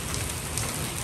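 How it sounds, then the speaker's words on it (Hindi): Heavy hail pounds down in a rainstorm, a dense continuous patter of stones striking surfaces, loud and steady over a brief moment. "बहुत तेजी से ओले पड़ रहे हैं"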